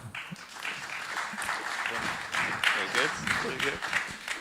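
A conference audience applauding, a dense wash of clapping that builds and holds for several seconds, with voices mixed in beneath it.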